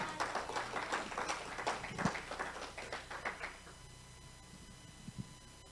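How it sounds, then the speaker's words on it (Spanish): Scattered applause from a church congregation during a Spanish-language sermon, a run of uneven claps at moderate distance that thins out and stops partway through, leaving a quiet room with a couple of faint taps. "Denle un aplauso al Señor."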